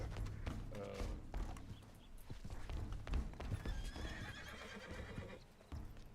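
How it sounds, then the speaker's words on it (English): Horse in a hunting video game neighs and whinnies loudly while hooves clip-clop in a steady, close rhythm, set against dense game background noise. "Horse is going insane."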